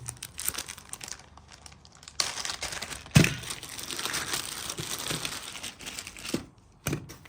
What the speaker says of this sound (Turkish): Onun stantı bizi karşılıyor. Bu stantı da açıyorum.